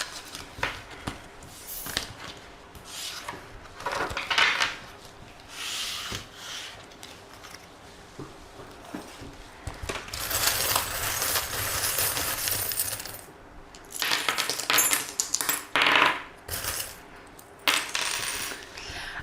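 A coin cast among divination charms during a tarot-style card reading, clinking and rattling in several short bursts of small metallic taps and scrapes, close by with no talk.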